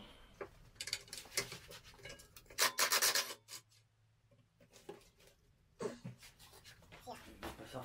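An exhaust bolt on a Peugeot 102 moped is being unscrewed, heard as short close rubbing and ratcheting scrapes in brief bursts with quiet gaps between them.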